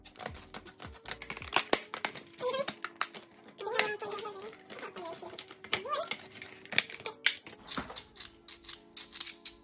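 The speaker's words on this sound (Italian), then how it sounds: "Forbici nuove, adesso le testiamo. Troppo difficile questa boia plastica." New scissors snip and crunch through stiff plastic packaging at a desk, a run of sharp, irregular cuts and rustles, close and fairly loud, with a voice speaking in between.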